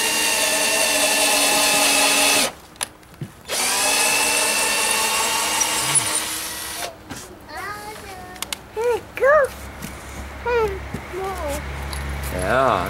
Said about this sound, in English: some serious drilling